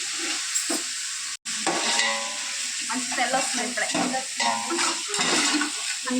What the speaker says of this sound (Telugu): ఇలా బగారన్నం పోపు చేస్తున్నాం